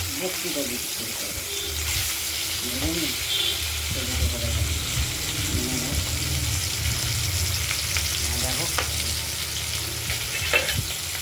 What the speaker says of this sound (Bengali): কড়াইতে তেল গরম করে তার মধ্যে পাবনা মাছগুলো হালকা আমরা ভেজে নেব